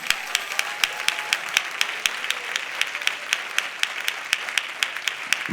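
A church congregation applauds during an Easter sermon, steady crowd clapping with sharp individual claps standing out across the whole stretch, no talk over it.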